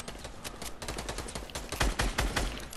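Rapid bursts of video game gunfire crackle in a tight, close rattle that speeds up and grows louder toward the end, with no talk over it.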